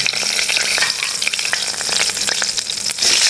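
Green chillies crackle and sizzle in hot oil with cumin seeds in a pan for Bengali chitol fish curry, a loud, close, spitting fry with sharp pops throughout and no talking.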